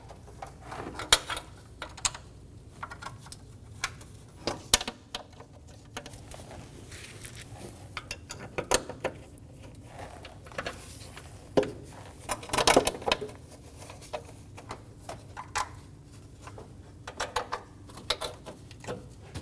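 Panel bolts on a 2008-2015 Scion xB 2.4L L4 are snugged down during a knock sensor replacement, giving quiet metallic ratchet clicks and tool taps in irregular bursts, with no talk.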